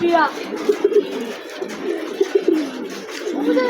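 A racing pigeon returning from a tournament flight coos close by in repeated short rolling phrases, while someone talks over it.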